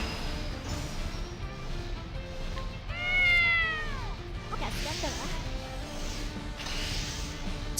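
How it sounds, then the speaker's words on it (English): A cat meows inside a video game, a single loud, clear, drawn-out meow in the middle, set among game music and battle effects. Someone talks over the game. "Also bring up Ryu's cat"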